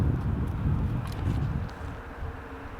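Wind buffets the microphone outdoors on a disc golf course, a low, steady rumble that gusts and eases over a few seconds with no voices.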